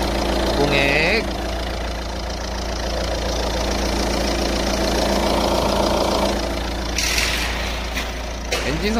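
A 2016 car's 1.6 e-HDi diesel engine idles steadily with a constant low rumble throughout, while voices talk over it near the start and end.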